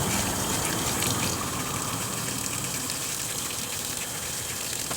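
A Samsung WA10F5S3 washing machine circuit board, dirty with cockroach droppings, is washed in detergent water, producing a constant close, rushing gush of running water with no pauses.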